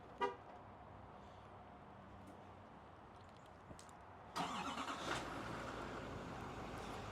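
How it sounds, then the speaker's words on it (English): A GMC AT4 AEV truck engine cold starts: after a quiet lead-in with a brief click, the engine catches abruptly and settles into a steady, moderately loud idle. "Love the cold starts."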